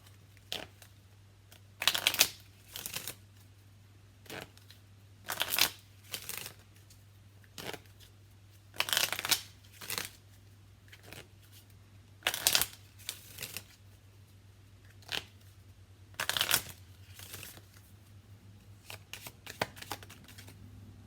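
Tarot cards being shuffled during a reading, repeated riffling bursts separated by short pauses over twenty seconds, close by and fairly soft, over a faint steady hum.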